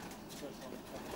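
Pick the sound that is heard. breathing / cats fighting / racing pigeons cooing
racing pigeons cooing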